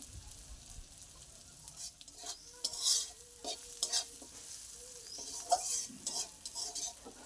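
Food fries and sizzles in a pan while a spoon stirs it, with close, irregular metallic scrapes and clinks over a steady sizzling hiss.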